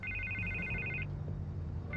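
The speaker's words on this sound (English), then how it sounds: "I can't get the phone to stop ringing" Telephone ringing in a Batman video game, a repeated electronic double-trill ring that cuts off midway and starts again, fairly quiet over a low background hum.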